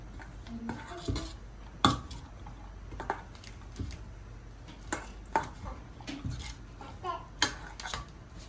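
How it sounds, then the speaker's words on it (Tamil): A spoon stirs and mixes food in a cooking pot, producing soft, intermittent clinks and scrapes at a low level throughout. "நல்லா மிக்ஸ் பண்ணி விடுவோம்"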